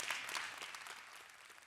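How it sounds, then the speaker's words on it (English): Scattered applause from a conference audience, fairly faint and thinning out over under two seconds, with no talk over it. "you can clap for that"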